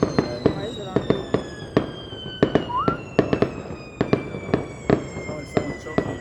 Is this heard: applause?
no